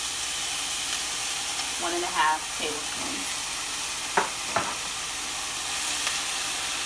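Minced garlic sautés in a pan for Southern chicken cornbread dressing, giving a steady soft sizzle with a few stirring clicks, while a person speaks briefly over it.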